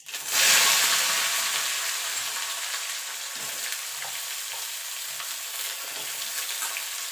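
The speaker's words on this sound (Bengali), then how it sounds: "ডাটাটা একটুখানি ভাজা ভাজা করে নেবো।" Drumstick stalks with five-spice seeds land in hot oil and burst into a loud, close sizzle that slowly settles into a steady frying hiss, with a few soft stirring knocks and no voices.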